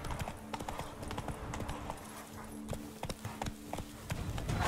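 Horse hooves clip-clop in a steady trotting rhythm in The Witcher 3 game, close and fairly loud, with a low steady game hum beneath and no talk over it.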